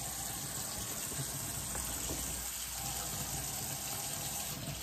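Cold tap water running steadily into a sink while collard greens are rinsed with vinegar, a continuous close gushing splash throughout with no talk.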